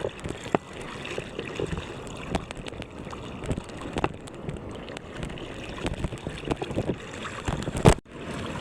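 Rough, choppy sea surging onto a beach, with steady broadband wash, gusts of wind buffeting the microphone and a sharp thump near the end.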